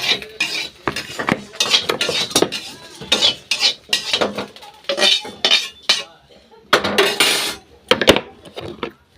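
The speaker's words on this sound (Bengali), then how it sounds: "এইভাবেই আমি চাল ভাজা করি, বুঝেছ?" Rice dry-roasting in a pan while being stirred gives repeated bursts of scraping and rattling metal, with grains skittering against the pan in uneven strokes separated by brief pauses, close and loud.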